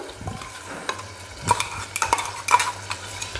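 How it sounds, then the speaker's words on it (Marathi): A thick spice paste, freshly ground in a mixer, is stirred and scraped around a pot of moong dal aamti with a spoon, with soft sizzling and a few sharp clinks of metal. "आपण आता जे मिक्सरमध्ये वाटण केलं होतं ते आता यात घालूया"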